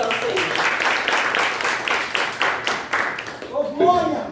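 Applause from a church congregation during a Portuguese-language worship service, a dense steady patter of many hands clapping that fills the space, with a voice rising over it near the end.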